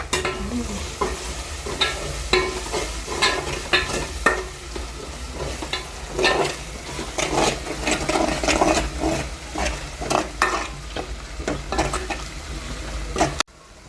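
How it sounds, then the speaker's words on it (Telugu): Ginger paste fries in a pan in a village kitchen with a steady close sizzle, while a spoon stirs through it with repeated scrapes and clinks against the metal. "అల్లం పేస్ట్ అయితే బాగా అయితే వేగిపోయింది"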